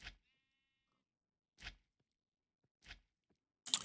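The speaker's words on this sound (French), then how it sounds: "je pense que j'ai commencé à prendre des moutons" Short sheep bleats from Minecraft with an FTB modpack, three separate calls spaced about a second and a half apart against silence, followed by a brief burst of noise at the end.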